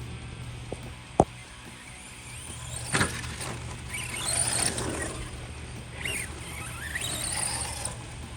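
Kyosho Mad Van RC car with a tightly set slipper clutch driving on a crawler track, a steady electric whir and faint squeals, with sharp clacks and tumbling knocks as it bounces and rolls.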